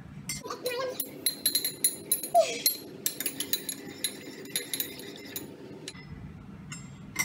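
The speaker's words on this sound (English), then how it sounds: "then we're gonna stir" Coffee stirred in a glass gives a rapid run of close, bright spoon clinks and taps against the glass, fairly loud and continuous, with a few soft background sounds.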